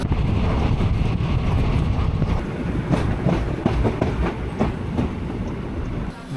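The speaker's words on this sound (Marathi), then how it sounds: "ट्रेन संगमेश्वर स्टेशनवरनं निघाली आहे आत्ताच" Train pulling out of Sangameshwar station on the Konkan line in monsoon season, a loud continuous rumble with rhythmic wheel clatter and wind buffeting the microphone, no talking.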